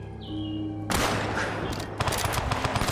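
Gunfire in Fallout 4 aimed at a turret: after a quiet opening with a low hum and a brief tone, a loud burst of rapid shots erupts and continues as dense crackling fire, with sharper repeated reports near the end.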